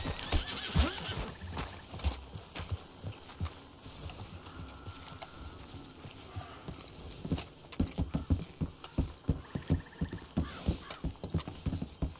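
Horses in the Red Dead Redemption 2 video game whinny and neigh while hooves clop in uneven bursts, growing denser and louder toward the end over a busy background.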